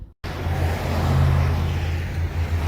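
Road traffic on a road below a ski area at Powder Mountain gives a steady rush of passing cars, a continuous low engine and tyre drone from some distance. It comes in after a brief silence.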